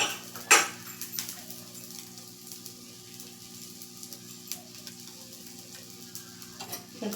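Rava (semolina) uttapam fries in oil on a pan with a steady, gentle sizzle, broken by a sharp metallic clink early on and a few light utensil taps against the pan.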